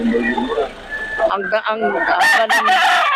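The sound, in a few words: rooster crowing, a hen-feathered (heni) rooster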